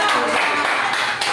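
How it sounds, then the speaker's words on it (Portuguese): A church congregation claps in praise during a Portuguese-language worship service, a quick run of rhythmic claps blended with voices and room noise. "Com as palmas louvamos o Senhor."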